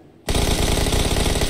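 Video game gunfire in a shootout starts abruptly after a brief quiet moment. A loud, dense, rapid stream of automatic shots follows without a break.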